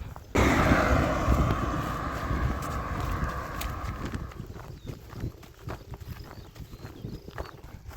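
Ponies' hooves clip-clop outdoors in a steady walking rhythm, mixed with a constant rushing wind that gradually eases.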